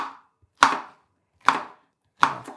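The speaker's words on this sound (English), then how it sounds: "Cool, look at that chopping. ASMR. Of chopping." Three sharp knife chops through peppers on a cutting board, evenly spaced and close, with no talking.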